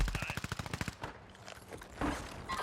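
Rapid bursts of video game gunfire, a quick automatic volley up front followed by scattered shots and thuds, moderately loud.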